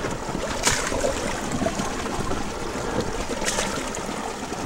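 Water rushes steadily through a bedrock crack, washing trapped gravel loose in a stream during gold panning, a continuous broad outdoor splashing with a couple of slightly sharper surges.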